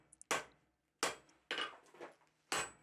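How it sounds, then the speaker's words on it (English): Hammer blows forging a 1/2-inch square steel bar into tong blanks, four sharp ringing strikes spaced unevenly about half a second apart, close and distinct with short decays. "I'm just forging a short section."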